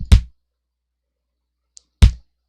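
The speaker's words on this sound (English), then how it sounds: "So let's take this kick sample, okay?" Two punchy kick drum hits about two seconds apart, each a deep thump with a short click, separated by silence.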